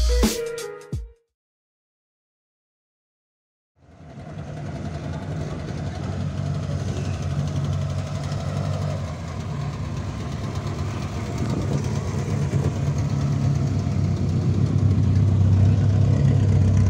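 A 1988 Volkswagen Gol engine idles steadily with a low rumbling drone after a brief pause of silence, close and continuous with no talking.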